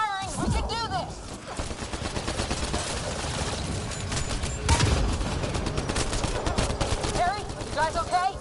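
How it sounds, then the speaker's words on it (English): Sustained bursts of automatic gunfire and rapid shots in the Mass Effect video game, loud and dense over several seconds, mixed with game sound effects and shouted voices. "Just keep firing!"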